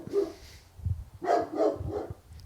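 A dog barks several times in an irregular burst of gruff woofs mixed with small yips, moderately close and fairly soft.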